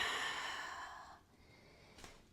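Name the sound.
breathing out during a yoga forward fold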